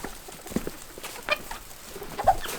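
Chickens on a farm cluck in short, scattered bursts after feed is tossed down for them. The calls are fairly quiet and close by, with a few sharper squawks among the soft clucks.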